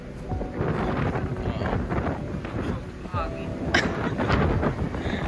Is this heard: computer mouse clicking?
no